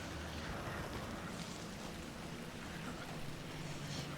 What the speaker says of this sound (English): Oh no, no, it's raining as well.